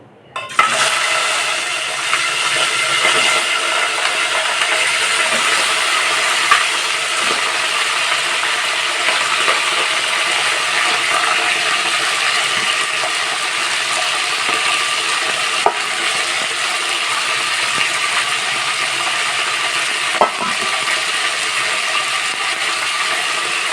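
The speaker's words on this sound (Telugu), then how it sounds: "నూనె వేడెక్కింది. ఈ పీతలు మన దాంట్లో వేసేద్దాం." Crabs drop into hot oil and fry with a loud, dense, continuous sizzle and crackle. The sound stays close and steady throughout, with a few faint clicks and no voices.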